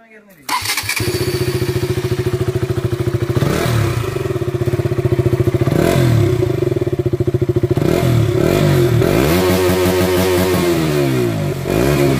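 A KTM RC 200 motorcycle engine fires up and idles with a loud, lumpy exhaust burble, then revs in a few quick blips near the end.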